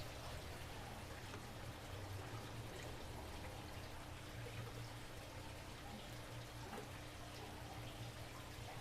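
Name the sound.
water being poured from a saltwater aquarium with a pitcher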